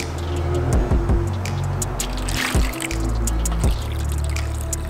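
Warm water poured into a container during a dry ice experiment, giving a steady liquid rush broken by a few louder splashing gulps, with no talking.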